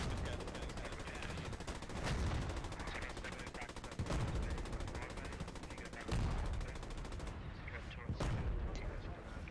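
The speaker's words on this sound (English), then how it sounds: "we got some artillery coming in" Artillery fire in the World War II shooter Post Scriptum makes dense, continuous rumbling booms and crackling gunfire, with several sharp blasts standing out at intervals.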